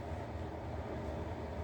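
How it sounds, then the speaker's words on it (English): A train passing near a station in England, a low steady rumble with faint rolling rhythm, heard from some distance in a quiet setting with no talk. "That's a train. I live right near a train station."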